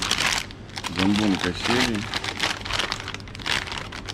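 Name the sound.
crinkling of a grease-soaked paper bag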